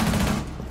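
Gunfire in the tactical shooter game Rainbow Six Siege: a brief, loud burst of rapid shots that fades into a softer tail, with no talk over it.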